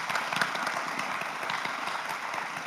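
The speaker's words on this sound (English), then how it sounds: "Let's give our guests a round of applause." Applause from an audience honoring guests at a college homecoming presidents' panel, a steady wash of clapping held at moderate level for the whole stretch, with no talk over it.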